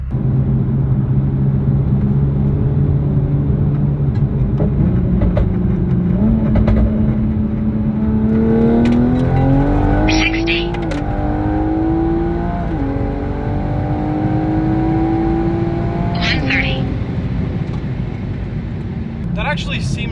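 A 700 WHP turbo Toyota Supra accelerating hard, its engine droning and climbing steadily in pitch through the gears, loud and close from inside the car, with brief whistling turbo sounds.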